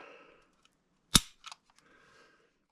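An unloaded Glock G34 pistol is dry-fired, a single sharp metallic click of the striker release followed by softer small clicks of the trigger resetting, close and isolated over faint background hum.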